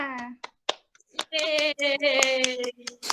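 Hands clap in a rhythmic pattern during an Indonesian language class, with sharp claps set against voices that chant or sing together.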